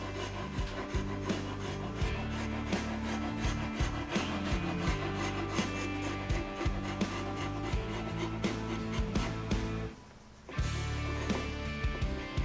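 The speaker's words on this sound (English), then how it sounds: "I'll use this pointed scraper to get into between the two beads." Pointed scraper rasping old finish off a wooden table between carved beads, a continuous close, gritty scratching with uneven strokes and one brief pause near the end.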